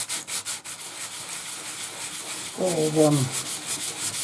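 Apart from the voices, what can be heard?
rubbing plastic disc bottom on emery cloth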